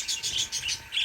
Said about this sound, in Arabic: اليوم حلقتنا نحكي على طيور الحب والكوكتيل